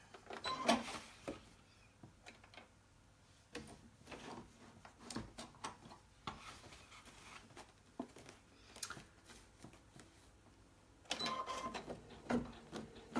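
An embroidery machine stitches an appliqué design with vinyl onto a T-shirt, giving faint rapid mechanical tapping in irregular bursts with a denser clatter near the end.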